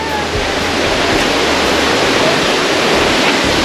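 Continuous close roar of falling water from a small waterfall at Draco Nature Camp right after rainfall, an unbroken wash of noise with no voices.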